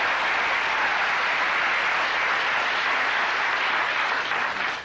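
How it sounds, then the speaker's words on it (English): Studio audience at a live television taping breaks into sustained, even applause that holds steady for several seconds before beginning to taper at the end. "Sure, go ahead and applaud"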